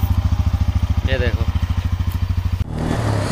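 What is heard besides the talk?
Bajaj Pulsar N160 motorcycle engine running after starting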